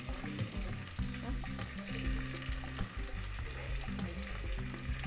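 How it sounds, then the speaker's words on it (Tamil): Chopped onions fry in ghee with a steady, soft sizzle. Faint stirring noises come through now and then, and a low musical hum runs underneath throughout. "கொஞ்சம் வதங்கினோன்னே வெட்டி வச்சுருந்த வெங்காயத்தை கலந்துக்குவோம்."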